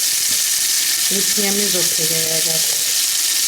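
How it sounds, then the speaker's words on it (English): Garlic butter melts in a big hot pot with a loud, continuous sizzle and crackle, and a brief humming, voice-like tone rises and falls over it for about a second and a half. "So now I'm melting my butter."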